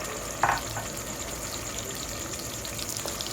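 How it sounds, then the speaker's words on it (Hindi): A continuous crackling sizzle of onion, ginger and garlic paste frying in hot ghee, with a brief clink near the start and steady frying throughout. "घी थोड़ा सा गर्म होता है तो हम इसमें प्याज, अदरक और लहसुन इसका पेस्ट हम डाल देंगे।"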